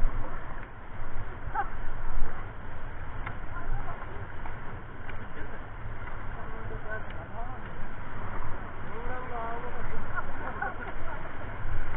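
A river raft pushes through the Rishikesh rapids with steady rushing water and splashing paddle strokes, while an instructor shouts commands over the continuous churn.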